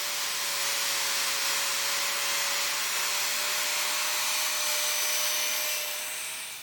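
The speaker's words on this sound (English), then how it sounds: "So we can go ahead and weld them." Steady, loud arc hiss from welding scrap trailer parts runs unbroken for about six and a half seconds with a faint electrical hum beneath it, then fades slightly at the end.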